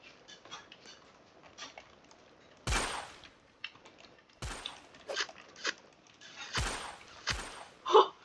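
Four sharp, loud gunshots from a player's gun in a Thai sheriff-versus-killer video game, spaced irregularly over quieter background game noise, with no one talking.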